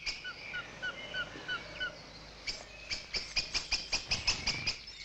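High, thin begging calls from young blue tits, first a sparse series of short notes, then a faster, insistent run of sharp repeated cheeps, fairly close.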